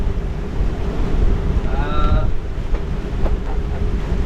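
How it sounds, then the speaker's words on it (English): Strong wind gusting 30 to 35 knots at sea roars steadily around a Beneteau 423 sailboat under way, with a broad rushing noise of wind and water and a brief higher whistle partway through, no voices. "It's blowing, gusting 30 knots out there. 35 knot gusts."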